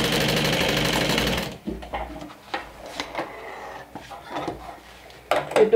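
A sewing machine runs steadily for about a second and a half while stitching fabric pieces for a makeup bag, then stops, leaving soft handling clicks and rustles of the fabric.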